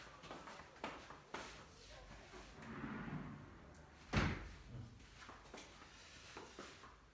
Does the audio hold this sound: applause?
no